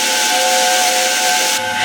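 A large steam locomotive's whistle blows continuously, loud and close, a steady shrill tone over a rushing hiss of steam that drops slightly near the end.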